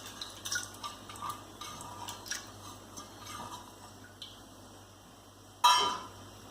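Water goes into a pressure cooker for toor dal in a Kerala curry: soft, faint drips and light splashes, then one brighter splash near the end.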